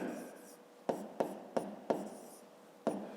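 Handwriting on paper while working through a fifth-grade geometry exercise: quiet scratching of pen strokes broken by five sharp taps or strokes, close and soft.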